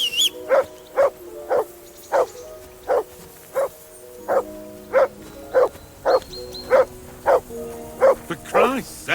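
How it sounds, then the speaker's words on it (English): A dog in Kingdom Come: Deliverance II barks repeatedly at a steady, rapid rhythm, about twenty loud close barks in a row, with a voice briefly heard among them. "Call off that damn dog"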